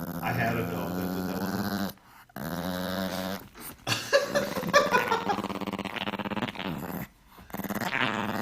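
A dog growls and whimpers in short bursts at moderate distance, with people talking over it.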